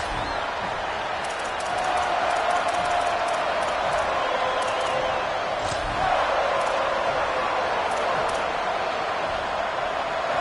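Home crowd at a football game roars steadily throughout, a dense wash of voices that swells slightly near the middle, with commentators talking over it.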